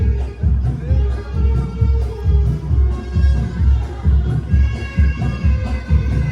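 Dense crowd noise at the Diva Mahotsav festival, a steady wash of many voices murmuring and calling out close by, with rhythmic low thumping underneath, continuous throughout.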